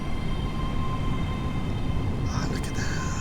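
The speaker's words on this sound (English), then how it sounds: "You can hear a train pulling off." A train pulls away in Train Sim World 3 on a Scotrail line, a steady low rumble with a rising whine and brief squeals near the end.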